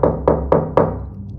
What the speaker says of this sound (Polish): Kilka chwil później znów rozległo się pukanie.